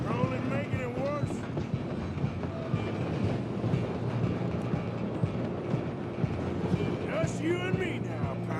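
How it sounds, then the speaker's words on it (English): A steam-era train rolls steadily along the rails in the video game Red Dead Redemption 2, its continuous rumble and clatter running under game dialogue and voices throughout. "I'm gonna ride ahead and stop the train."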